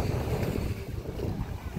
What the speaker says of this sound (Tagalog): Tsaka medyo malakas yung hangin ngayon.